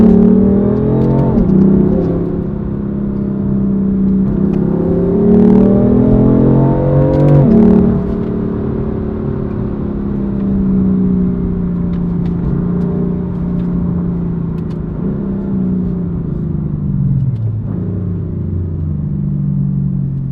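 A BMW M4 engine revs and accelerates up through the gears of its seven-speed DCT, a loud, close car rumble with rising and falling pitch sweeps and no talking.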